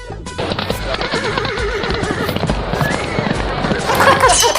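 A horse neighs loudly at close range, a shrill wavering whinny over busy background noise and thumps, with a voice heard in the mix.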